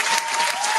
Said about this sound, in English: I'm about to clap for y'all.